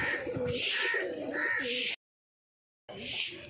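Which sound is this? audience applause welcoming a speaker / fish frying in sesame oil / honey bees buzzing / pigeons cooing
pigeons cooing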